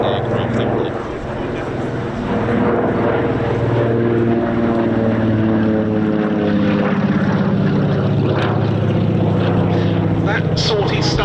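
Propeller aircraft engines at the East Kirkby airshow, with a Lockheed aircraft noted among Mosquito and Lancaster taxy runs, give a loud, steady, unbroken drone throughout, with a voice talking over it.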